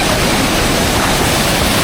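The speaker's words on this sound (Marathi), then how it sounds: "पाणी वाढतं जात आहे आणि त्याबद्दल बघू किती छान प्रकारे वरनं पाणी पडत" A monsoon waterfall at Vave Dam near Tala, Raigad, pours as a loud, dense, unbroken roar of falling water, close by and with no voices.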